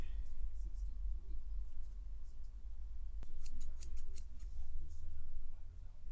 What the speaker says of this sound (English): go ahead and snip off where I need to